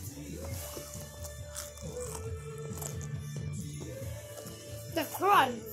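Sharp, close crunches of someone biting into a spicy snack during an eating challenge, several short brittle bursts mixed in with ongoing talking.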